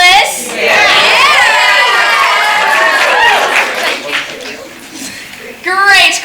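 A middle school audience in an auditorium cheers, shouts and claps loudly for several seconds, the noise dying down before a fresh burst of yelling at the end.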